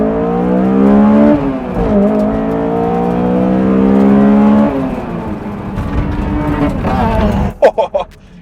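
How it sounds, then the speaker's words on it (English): Car engine revving hard for a test launch at a car battle track event, loud, rising and falling rev sweeps near the microphone, then fading under a lower rumble with a few sharp knocks at the end. "Let's just do a little test launch."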